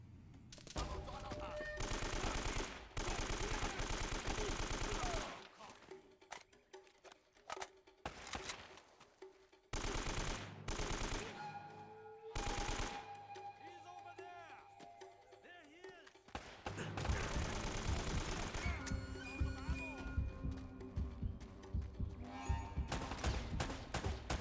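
AK rifle fire in the game Uncharted, long automatic bursts alternating with pauses and scattered single shots, loud and close.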